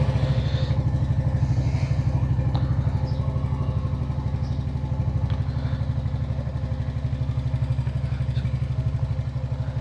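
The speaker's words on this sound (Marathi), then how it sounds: "सो त्या पहिले आपण कोल्ड स्टार्ट करून घेऊया." Motorcycle engine idling steadily after a cold start, a continuous low rhythmic putter held close and loud throughout, with faint clatter above it.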